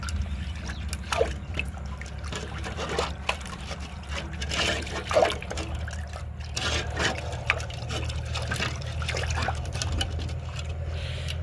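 Water runs from a pipe on a farm during washing, a close trickle and splashing pour with scattered drips and knocks, fairly quiet and uneven in strength.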